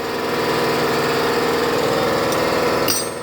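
Porter Cable 30 gallon 155 psi air compressor running, a loud, steady pulsing motor drone with rapid rhythmic knocking that cuts off near the end.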